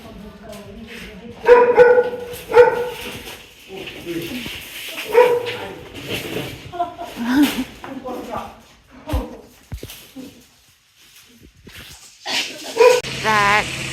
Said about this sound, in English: I know you can't hear my voice through all the dogs barking